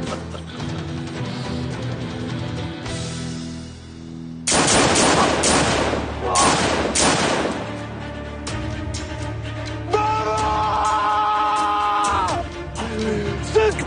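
Gunfire rings out in a Turkish TV drama scene, several loud bursts of shots crowded together in the middle, set against a sustained dramatic music bed.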